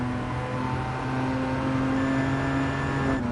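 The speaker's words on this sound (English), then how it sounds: "annoying beat for the rotary engine" A rotary-engined car in GT Sport drones steadily at a constant high pitch, loud and close like an in-cabin engine note, with no one talking.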